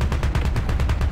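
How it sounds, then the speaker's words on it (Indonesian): Rapid repeated gunfire bursts from a War Thunder Mobile tank battle, an ISU-122 game session aiming at an enemy tank's track, sounding as loud, close, rhythmic blasts filling the whole moment with no talk. "Kita tembak tracknya."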